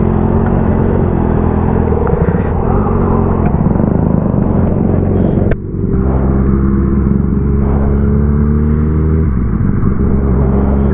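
Kawasaki ZX6R motorcycle accelerating up a flyover, its engine a loud, close, steady drone whose revs climb after a brief dip midway, with no voices.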